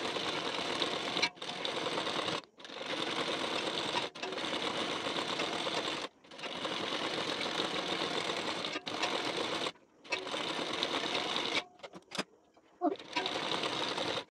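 Sewing machine stitching a waistband strip onto a blouse, a loud steady mechanical whir running in long bursts separated by short pauses.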